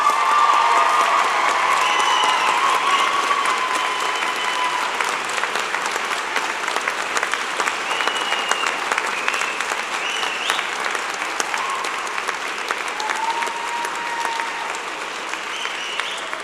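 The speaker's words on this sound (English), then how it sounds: "Graduates, a round of applause for your family and friends." Sustained applause and cheering from a large audience at a spring college convocation, dense steady clapping with some whistles and shouts, holding loud for the full stretch and easing slightly toward the end.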